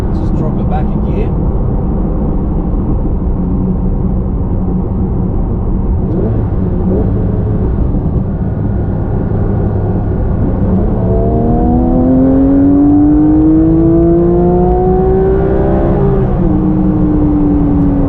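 A 2022 Porsche 911 GT3 idles and cruises with a low rumble, then after a downshift its engine revs hard, climbing in rising sweeps that grow louder toward the end, while someone talks over it.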